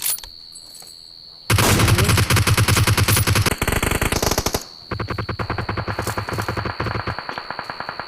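Rapid automatic gunfire in a video game comes in loud, dense, sustained bursts, with a short pause partway through before the firing resumes at a steady pace.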